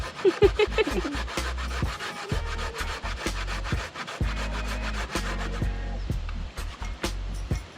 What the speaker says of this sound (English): Grater come in now, quick and fast.